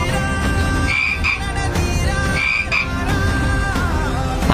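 A frog croaking sound effect plays as loud, close croaks and ribbits repeating in a quick, uneven rhythm, with no voices over them.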